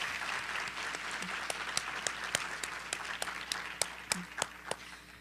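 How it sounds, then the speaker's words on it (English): Audience applause at a high school top seniors recognition ceremony, a steady wash of clapping from a crowd with a few sharper individual claps standing out, moderately distant and continuous throughout. "can we please give them a round of applause?"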